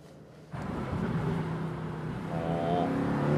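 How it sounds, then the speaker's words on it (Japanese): Sports car engine in race mode revving up after a brief quiet moment, a loud rising engine note that builds steadily and stays close. "ああエンジンのレスポンスもこのレースモードで上がるな。"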